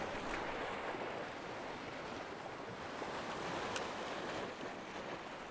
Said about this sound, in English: I'm struggling with the wind and needing something heavy enough to cast into it